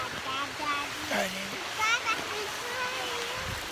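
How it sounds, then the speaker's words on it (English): Rushing water from a waterfall along a nature hiking trail forms a steady splashing wash, while children and an adult talk over it. "Waterfall is back behind us."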